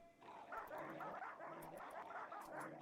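An angry pack of dogs in the Rimworld video game barks and yelps in a steady, overlapping clamour that sits fairly faint and constant through the short stretch, with no talk over it.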